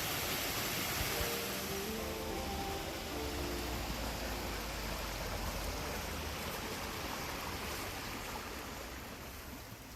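A small stream of rainwater flows through the Hollywood Hills after a downpour, heading toward Ballona Creek, a steady broadband rush of water running continuously and fairly quietly with no talk.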